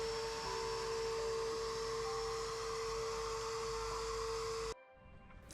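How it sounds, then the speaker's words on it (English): A vacuum sucking standing water off a concrete pad, a steady loud roaring whine with a constant tonal hum that cuts out abruptly near the end. "we're going to vacuum over this entire pad to get all the water off"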